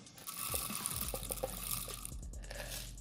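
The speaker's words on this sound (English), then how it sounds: "So all we're going to do is pour some peppercorns in here." Peppercorns are poured into a FORLIM rechargeable pepper grinder, a quick patter of hard little grains clicking and rattling into the chamber up close, thinning out toward the end.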